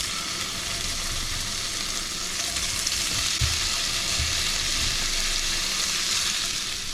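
Sausage hits hot shimmering oil in a pot and fries with a loud, dense, continuous sizzle that stays even throughout, with a few low knocks beneath it.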